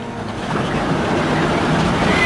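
Wind and sea on open water the morning after a bad overnight storm with 33-knot winds, heard from a small sailboat: a steady, loud rush of broadband wind and wave noise with no talk.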